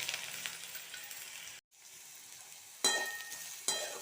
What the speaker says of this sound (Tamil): இப்போ இந்த திருத்தி வச்சுருக்கிற மாங்காய் இஞ்சி இதோடு சேர்த்துடலாம்.